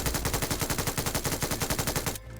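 Rapid automatic gunfire in PUBG Mobile, a loud, continuous stream of evenly spaced shots close up, stopping abruptly near the end.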